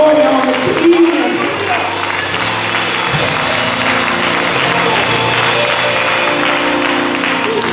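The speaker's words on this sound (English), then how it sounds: "Come on and clap your hands and give God some" A church congregation clapping and applauding, a sustained wash of hand claps from a crowd, fairly loud and steady, with voices mixed in.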